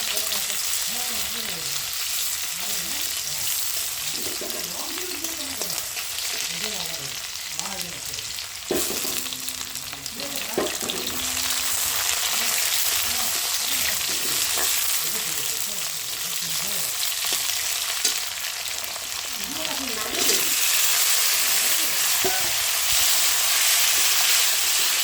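Potatoes and onions fry in a very hot wok with a constant sizzle and repeated stirring scrapes, while a voice talks over it at moderate level.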